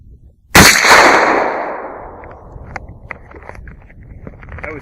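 A Mossberg 500 Field pump shotgun fires a single loud shell outdoors, one sharp blast with a long fading tail, followed by scattered faint clicks and handling noises.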